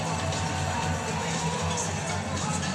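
A hockey crowd inside McMorran Place in Port Huron gives off a constant, loud wash of chatter and shouting, with scattered higher yells bursting out over the steady arena noise.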